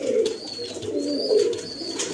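High-flying pigeons coo softly nearby, several low throaty calls repeating over a faint background of chirps.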